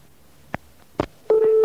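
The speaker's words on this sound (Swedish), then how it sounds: "Så jag ringde upp honom en gång till och då lät det så här." A telephone call being placed, with a few brief clicks and dialing beeps followed by a steady electronic ringback tone with a faint higher harmonic, heard close with no talking.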